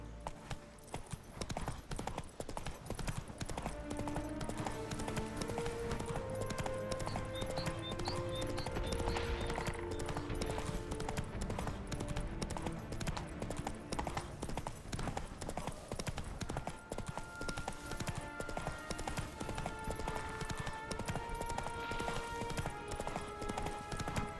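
Continuous rapid hoofbeats of a galloping horse in The Witcher 3, a dense steady clip-clop rhythm lasting over twenty seconds, layered with game music and ambient sound.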